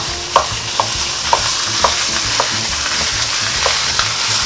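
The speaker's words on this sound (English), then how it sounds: "Just put this in together. Pork and beef. I'm going to brown this." Ground pork and beef brown in a hot pan, giving a steady, loud sizzle with regular scraping clicks from a stirring utensil.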